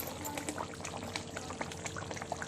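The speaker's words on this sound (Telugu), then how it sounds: "ఇక ఇది మంచిగా ఇప్పుడు ఉడకనివ్వాలండి" A pot of fish pulusu, a fish curry, simmering on the stove with steady quiet bubbling and small pops, no voices present.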